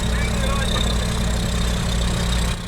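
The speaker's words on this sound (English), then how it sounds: "This is that small Kohler engine that powers the whole thing." A small Kohler diesel engine idles steadily, running the generator on a heavy transport trailer that moves a huge wind turbine blade. It gives a close, constant low drone without a break.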